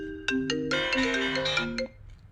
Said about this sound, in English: I have my phone on Do Not Disturb. Now, why on God's green earth does it ring?